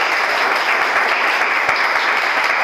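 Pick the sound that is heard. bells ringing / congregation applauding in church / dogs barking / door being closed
congregation applauding in church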